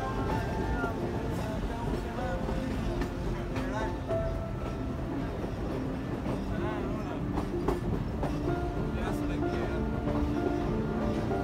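A passenger train rumbles along between Bellpat and Quetta in Balochistan, heard from inside a carriage as a steady, loud roar with a faint clickety-clack. People talk under the noise the whole time.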